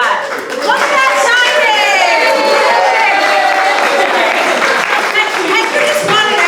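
A crowd at a live event breaks into sustained applause with cheering, a dense, loud wash of clapping and voices holding steady throughout, with audible chatter and vocal shouts mixed in.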